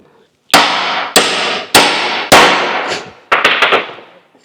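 A hammer strikes a pipe and washer to drive a wheel bearing onto the front axle of a Scout, four loud, sharp metallic blows evenly spaced, then a quick flurry of lighter taps.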